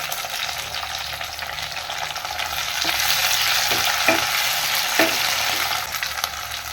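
Onion, garlic and tomato frying in a pan, a steady loud sizzle with a few soft stirring scrapes and taps near the end, no voices.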